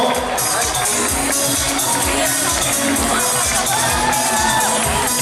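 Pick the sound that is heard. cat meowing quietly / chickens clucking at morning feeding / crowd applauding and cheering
crowd applauding and cheering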